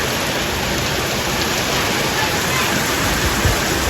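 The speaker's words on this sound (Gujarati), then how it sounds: "આજે પણ ભાઈ જો પાછો વરસાદ ચાલુ થઈ ગયો" Rain pours down in a dense, steady hiss that fills the whole short stretch, loud and close with no breaks.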